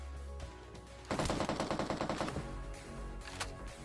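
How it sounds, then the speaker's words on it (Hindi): Automatic gunfire in PUBG on the Rozhok map, a burst of rapid shots starting about a second in and running roughly a second and a half, fairly loud and close, then fading into scattered quieter background fire. "अब यार मेरे को पीछे फायरिंग की साउंड आती है"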